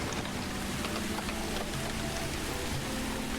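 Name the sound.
rain falling in the video game Songs of Syx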